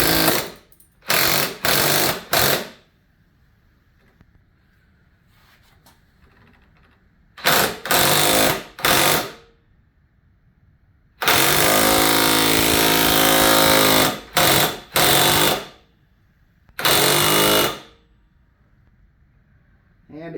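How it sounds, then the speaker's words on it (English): An impact wrench tightens a lower ball joint on a Dana 30 front axle in loud, close rattling bursts: several short hammering runs, one long sustained burst, then more brief bursts with quiet gaps between. "I'm going to use an impact"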